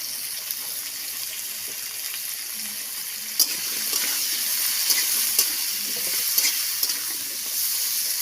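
Spices with turmeric powder frying in a pan, cooked for an aloo posto dish with fresh bottle gourd greens: a steady soft sizzle throughout, with a few sharper clicks and scrapes of stirring partway through, no talking.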